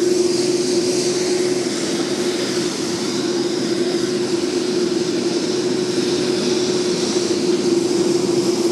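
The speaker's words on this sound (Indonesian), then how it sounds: "bersama dengan Ibu Negara Emine Erdogan sudah akan tiba ya, posisinya sebentar lagi juga bisa akan turun dari pesawat." Turkish presidential airplane arriving, its engines giving a loud, steady drone with a constant hum that carries unbroken through the whole stretch, with no voices over it.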